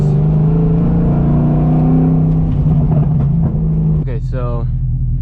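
Straight-piped M60 V8 BMW E30 driving over bumpy road, a loud steady engine drone with rising revs near the end, close and continuous.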